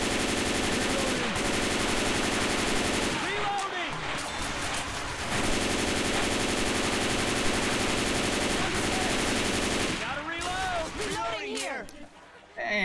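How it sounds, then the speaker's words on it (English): Gunfire in the video game Left 4 Dead 2: dense, loud bursts of rapid automatic shooting run almost without break, with a short lull and a few pauses, while players talk over the action. "Man, y'all are shooting me."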